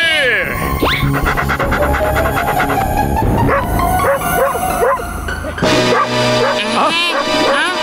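Cartoon dog barks and yips carry from a vehicle in an animated comedy, several bouncy bark bursts mixed with music and sound effects, with characters talking over them.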